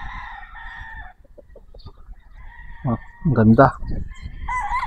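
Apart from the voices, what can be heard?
gamefowl broodcock rooster crowing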